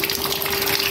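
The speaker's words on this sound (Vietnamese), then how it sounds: "Nếu mà nó thông chảy mạnh như này thì bình nóng lạnh không vướng mắc cái gì cả" Water rushes hard out of an opened valve on a water heater, a steady, loud gush with no pauses through the short moment.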